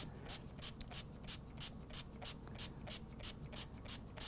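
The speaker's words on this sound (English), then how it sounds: "you're just going to start to just spray the vinegar into your Ziploc bag here" Spray bottle misting vinegar into a zip-top plastic bag, a steady series of about a dozen soft, rhythmic hissing sprays, close and quiet, with no talking.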